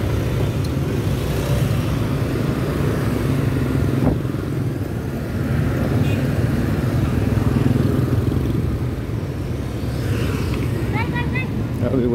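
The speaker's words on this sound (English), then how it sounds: "Everywhere is motorbike taxi." Motorbike taxis and traffic on an evening Saigon street, a continuous engine drone with passing bikes and faint horns near the end, under talking.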